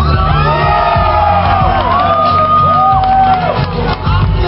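A live crowd at a bikini contest roars with cheers, whoops and shouts for a contestant, loud and continuous with rising whistle-like yells cutting through the din.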